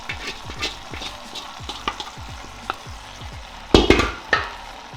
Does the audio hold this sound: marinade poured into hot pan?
yes